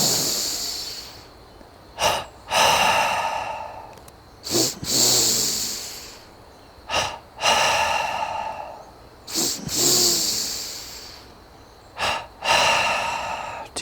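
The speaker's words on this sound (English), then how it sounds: "5 double breaths." Double-breathing pranayama: five rounds of sharp two-part nasal inhales followed by long, forceful exhales, close and loud in a regular rhythm with brief pauses between breaths.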